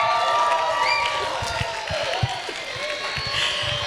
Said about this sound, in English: You guys don't need to cheer so hard